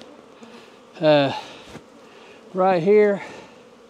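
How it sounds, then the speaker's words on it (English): Honeybees buzz loudly in two close bursts as they are shaken off a hive frame during a colony split to prevent swarming, with a quieter hum between the bursts and a brief spoken phrase. "We'll get us a couple good shakes of bees too."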